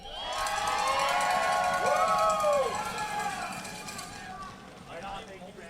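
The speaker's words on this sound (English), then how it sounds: "Huge round of applause for Brandy." A crowd at an Edmonton freedom rally whoops and cheers loudly with high shouts and rising and falling yells, fading after a few seconds, with voices mixed into the crowd noise.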